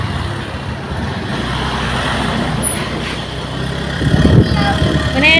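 Steady engine drone and road traffic noise accompany a night motorcycle ride, a constant rumbling wash that swells toward the end.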